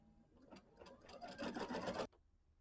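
Embroidery machine stitching the border of a quilted Kimberbell Nativity bench pillow, a dense steady mechanical whir of rapid needle strokes that builds louder before stopping abruptly.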